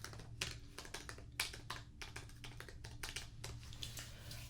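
Fingers type on a computer keyboard in a quiet room during a medical check-in, with quick soft clicking bursts and brief pauses, close and faint.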